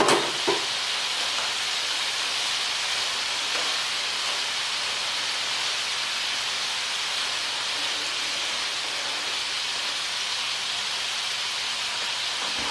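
Broccoli and tomato sizzle in a frying pan in a home kitchen, a steady, close hiss of frying that holds evenly throughout after a brief clatter at the start, with no talking.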